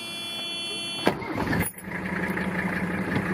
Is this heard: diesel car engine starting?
yes